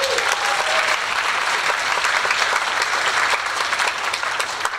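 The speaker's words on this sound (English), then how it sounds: "Give them another round of applause" A concert audience at a high school orchestra performance claps for the ninth grade orchestra, loud dense applause sustained throughout, with no speech over it.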